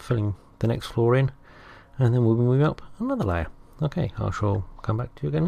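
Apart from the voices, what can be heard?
None of the usual background noises is heard.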